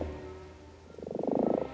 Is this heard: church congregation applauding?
no